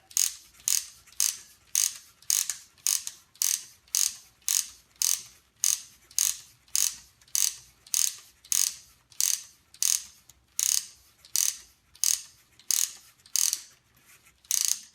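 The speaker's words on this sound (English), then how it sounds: "it will take some energy from the rubber bands to move the engine, and at the same time move the wheels" UGears UGM-11 wooden mechanical truck model powered by rubber bands, its gears and ratchet mechanism clicking in a steady rapid rhythm of about two clicks per second, close and clear with no talk.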